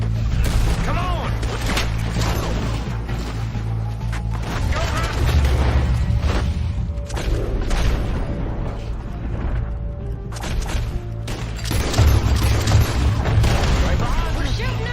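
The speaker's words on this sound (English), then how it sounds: "We're shooting our way out of here, boys!" Video game gunfire in a Red Dead Redemption 2 bank robbery shootout: dense, overlapping shots and booming blasts keep up throughout, with voices shouting over the fighting.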